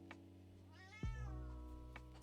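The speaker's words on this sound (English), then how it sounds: "That's my cat." A domestic cat gives one clear, drawn-out meow that rises and falls, close by over a low steady hum, with faint taps before and after.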